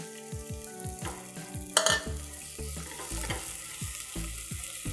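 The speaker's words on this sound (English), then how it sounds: "This pan is already nice and hot. So I'm going to add my onion." Onions sizzle steadily in hot oil in a pan while a utensil repeatedly scrapes and stirs, with a brief louder hiss partway through.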